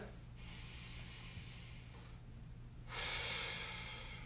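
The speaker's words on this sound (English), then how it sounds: "So take a nice deep breath in." A slow, deep inhalation taken while lying back across a foam roller during a neck and upper back mobility stretch, airy and close, swelling louder near the end over a steady low background hum.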